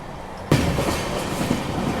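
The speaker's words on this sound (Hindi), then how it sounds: "यहाँ हमारी ट्रेन मनमाड जंक्शन को स्किप कर रही है और ओवरटेक कर रहे हैं पंजाब मेल को।" An express train passenger coach on the Mumbai–Nagpur Duronto rushes through Manmad junction; a sudden loud onset of roaring rail noise and rumbling wheels fills the rest, heard from close inside.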